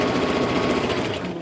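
A sewing machine runs a decorative stitch around an index card with a steady, continuous whirring hum, close and unbroken.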